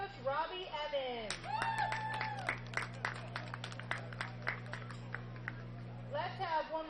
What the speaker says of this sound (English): Let's have one more big round of applause for all the Holmes County players and coaches